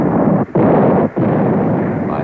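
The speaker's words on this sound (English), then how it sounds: "ushered in with the ring of small arms fire and the crash of artillery" Small arms fire and crashing artillery from the 1862 Battle of Shiloh form a loud, continuous roar of gunfire and blasts, broken by two brief dips.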